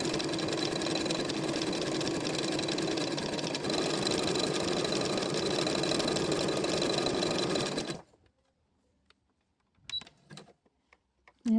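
A sewing machine runs steadily for about eight seconds, stitching along the edge of a piece of fabric, a close, continuous mechanical whir that stops abruptly, followed by a few faint clicks and handling sounds.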